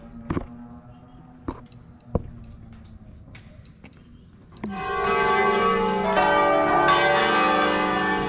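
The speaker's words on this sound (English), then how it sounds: "Midday bells." Midday church bells ring at Sacro Monte of Ossuccio above Lake Como, first a few separate strikes, then a full, sustained peal of overlapping tolls that fills the air loudly.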